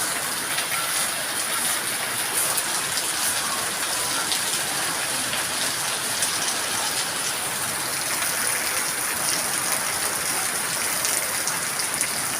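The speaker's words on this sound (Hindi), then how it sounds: "बहुत मूसलाधार बारिश हो रहा है।" Torrential rain pours down in a village in Bhatgaon beside a pond, a dense, constant hiss of heavy drops on surfaces that stays steady throughout, with no voices.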